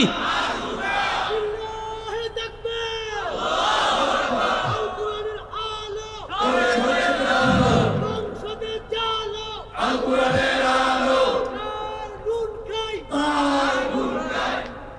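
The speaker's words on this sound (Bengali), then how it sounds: "স্লোগান দাও না, যার নুন খাই।" A large crowd at a religious political gathering chants a slogan in loud rhythmic unison, swelling and fading in repeated waves with a leader's voice between the chants, the shouting dense and close.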